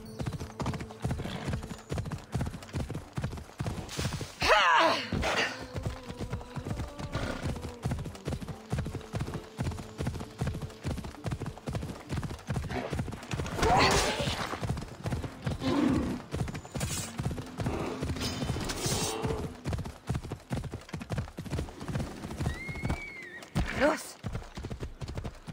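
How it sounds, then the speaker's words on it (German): Rhythmic horse hooves clip-clop at a steady trot throughout in the video game Assassin's Creed Odyssey, with the horse whinnying briefly and someone talking over the hoofbeats. "Jetzt holt das Pferd ran hier"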